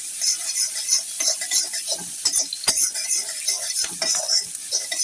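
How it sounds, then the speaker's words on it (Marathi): Onion and capsicum being stirred in a pan with a metal spoon for chilli potato, a steady run of scraping and clinking strokes over a faint sizzle, close and fairly loud with no talking. "आता याच्यामध्ये आपण शिमला मिरची ॲड करणार आहोत, कांदा मस्त एकजीव करून घेऊया."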